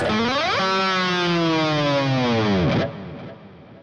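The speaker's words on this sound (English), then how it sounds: "if you dive the bar, that will just exaggerate the sound of the" A heavily distorted electric guitar note rings out from an aggressive pull-off, then its pitch dives sharply downward as the whammy bar drops, ending in a low growl that fades with residual noise.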